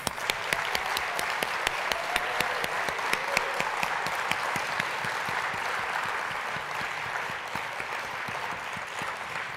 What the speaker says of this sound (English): Please join me in a final round of applause for this year's I Love My Librarian Award winners